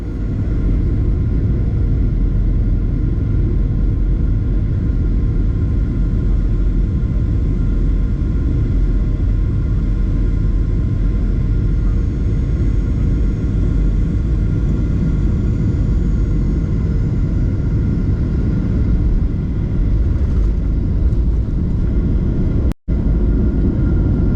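A KLM passenger jet on approach into Amsterdam Schiphol on a Brussels–Amsterdam flight fills the cabin with a steady, loud low engine rumble and airflow roar that holds nearly unchanged for over twenty seconds, with no talking.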